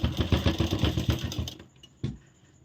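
A sewing machine stitches a princess-cut blouse with a back-neck design, running in a fast, close, rhythmic chatter for about a second and a half before stopping, followed by a single sharp click.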